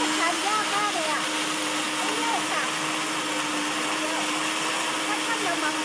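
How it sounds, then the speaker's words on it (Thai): Electric blender running continuously, whirring as it purées ripe fruit with water, loud and steady throughout, with a voice speaking over it. "ถ้าต้องปั่นให้แหลกเลยนะหน้าปิดเครื่องเลยค่ะ"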